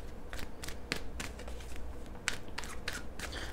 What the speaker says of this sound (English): Let me just shuffle a little bit here with you